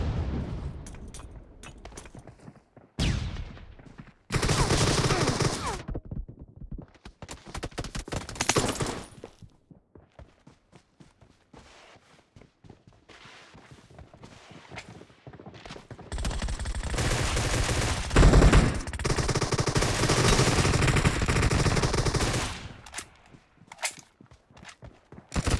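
Assault rifle fire in PUBG Mobile, crackling in loud sustained bursts and fusillades between quieter gaps with footsteps, the heaviest stretch running near-continuous toward the end.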